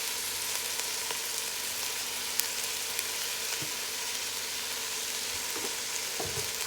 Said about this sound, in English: I like to fry the rice with the ingredients a little.